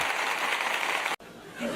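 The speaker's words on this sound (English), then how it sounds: "The crowd clapping." A crowd claps steadily and fairly loudly, a dense wash of hands that cuts out abruptly for an instant and then resumes more softly.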